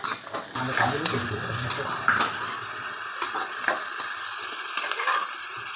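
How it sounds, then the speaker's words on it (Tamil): Big onions are sautéed for a village-style mutton curry, a steady sizzle with repeated scraping and stirring strokes against the pan, close and fairly loud, with a little talk nearby. "இப்போ வதக்கிட்டு இருக்காங்க"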